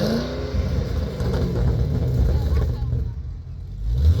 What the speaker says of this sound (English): All right, you give it a couple quick revs.